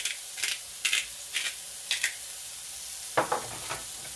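Chopped shallot seasoned with salt and pepper fries in a pan for a seafood potpie, as a low sizzle is broken by several sharp scraping bursts from stirring, close up and without speech.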